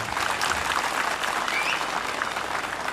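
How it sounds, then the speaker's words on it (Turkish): Dense, continuous applause from a large outdoor crowd at a Turkish village festival, honoring a local mayor, steady and even throughout with no voices standing out. "Kocaman bir alkış istiyorum Ali Başkanım'a."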